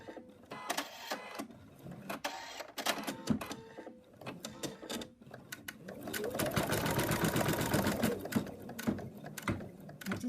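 A machine embroidery unit stitches a placement line for a teddy bear's ear, giving rapid mechanical needle clatter that starts in short bursts and then settles into a steady, louder run, recorded close up.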